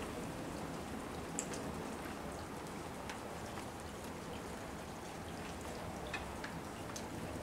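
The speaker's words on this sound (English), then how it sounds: "it's certainly not as loud as the raindrops falling on the cement pond" Steady monsoon downpour drumming on a cement pond, a dense continuous hiss of raindrops with occasional louder drips, moderately loud and even throughout with no voices.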